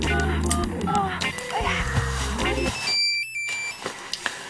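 A telephone being dialed for a call, a rapid run of close, clear keypad tones heard over background music and voices, which drop away for the last tones.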